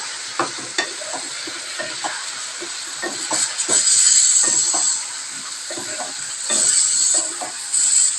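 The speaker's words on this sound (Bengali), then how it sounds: "তো আমড়া পটল সব ধুয়ে নিয়েছি ভালো মতন, দিয়ে এইবার ভালো মতন আমি এটাকে কষাবো।" Amra and pointed gourd stir-fry in a pan, with a steady hiss of frying and repeated scraping and clanking of a spatula, plus brief higher steam whistles, close and fairly loud.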